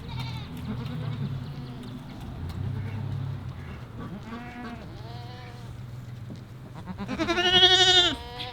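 Goats bleat in a garden area being cleared, several wavering calls spread across the clip with a louder, close bleat near the end over low background noise.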